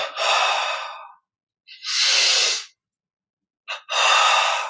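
Deep, slow breaths during a guided yoga breathing exercise: three long, airy, close-up inhales and exhales separated by brief silences, with a quick catch of breath before the last one.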